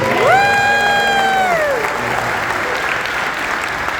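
Theater audience applause at The Redford Theatre, opening with a loud sustained whoop or cheer from one person that trails off, followed by steady clapping from the crowd.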